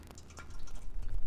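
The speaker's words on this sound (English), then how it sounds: "I'm just going to let that drip for a little bit." Engine oil drips from the drain of a Jeep Wrangler oil pan at home, giving a run of close, irregular small drips and splats over a low background hum.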